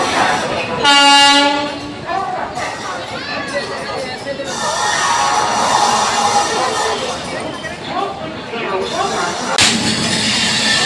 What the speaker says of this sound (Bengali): আর এখানে আমাদের ট্রেনও দিয়ে দিয়েছে।